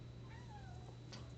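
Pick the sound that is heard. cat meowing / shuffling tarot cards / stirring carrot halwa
cat meowing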